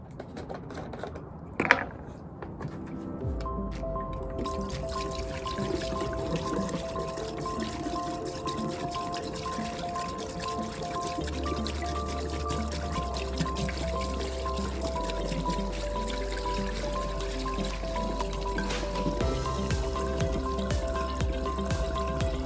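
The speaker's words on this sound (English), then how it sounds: "So you just pour it down into your skimmer" Antifreeze pours steadily into the skimmer of an above ground pool, a continuous trickling splash that runs for most of the stretch after a brief sharp knock near the start, with no talking.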